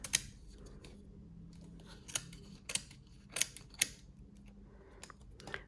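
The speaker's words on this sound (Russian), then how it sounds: "Берем ножницы и лишнее все подрезаем, чтобы у нас не утяжеляло игрушку" Scissors trim excess suede from a handmade toy blank, giving several crisp, close snips at irregular intervals against a quiet room.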